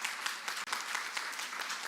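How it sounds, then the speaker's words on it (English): Audience at a mayoral candidate forum on arts equity breaks into sustained applause, a continuous crackle of many hands clapping, fairly loud and close, with no speech over it. "let's give them all a round of applause"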